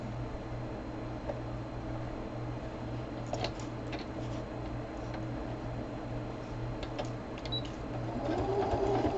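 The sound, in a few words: sewing machine sewing crumb fabric quilt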